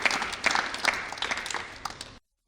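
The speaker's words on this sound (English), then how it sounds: "A round of applause for champions that made it to the next level of this competition" Scattered applause at a competition show honoring the champions advancing to the next level, a few sharp individual claps rising out of a moderate, uneven patter before it stops abruptly.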